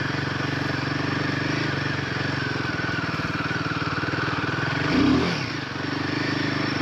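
A 2025 Royal Enfield Himalayan 450 rides off-road across a hard-packed side hill, its single-cylinder engine thrumming steadily and close with a brief surge of throttle partway through, and no talking.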